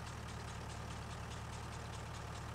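Tractor engine in Farming Simulator 22 idling at a steady low rumble, constant and even throughout with no talk over it.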